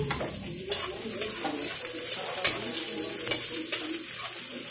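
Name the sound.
onion frying in a pan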